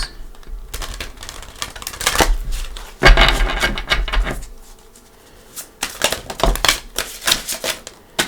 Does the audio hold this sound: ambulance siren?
no